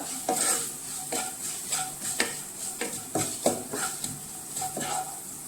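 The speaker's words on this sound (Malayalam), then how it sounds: "കായം, ഉപ്പ് എല്ലാം നന്നായി പച്ചമണം മാറുന്നതും വരെ ഇളക്കി കൊടുക്കുക" A spoon stirs chilli powder, asafoetida and salt in a hot pan, scraping in irregular strokes roughly every half second over a soft continuous sizzle, with no voices.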